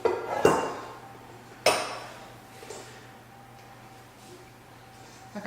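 Butter and sugar are mixed in a bowl, with two sharp ringing clinks of a utensil against the bowl that fade away, then lighter scrapes and taps, in a quiet kitchen.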